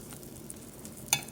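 Butter sizzling in a pan over medium heat while making giblet gravy: a quiet, steady hiss with one brief clink near the end.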